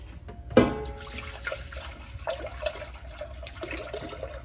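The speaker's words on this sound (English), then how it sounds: "we're going to go ahead and put the 8 cups of vinegar in" Eight cups of 5% vinegar poured into a pot for homemade pickle relish, a close liquid splash and gurgle that starts abruptly and then trickles on steadily without any talk.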